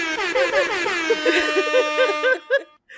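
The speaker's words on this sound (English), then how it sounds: "Can you play the air horn here?" A blaring air horn sounds in a series of short, loud, wavering blasts, with a brief gap of silence near the end.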